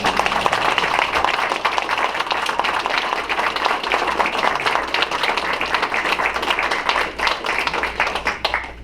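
Steady applause from the audience at a Taylorville city council meeting, honoring Christian Nelson; dense, continuous clapping at moderate loudness throughout, with no talk over it.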